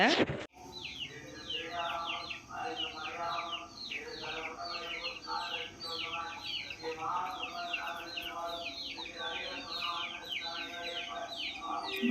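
Caged chickens cluck and call insistently in the morning, wanting to be let out, a dense overlapping chorus of repeated squawks with a person talking under it.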